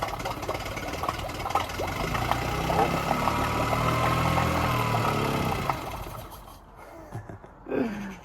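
A Yamaha 9.9 HP outboard motor with fuel starvation idles steadily with a rough, low rumble, then cuts out as the choke is pushed in, leaving near silence with a few small knocks.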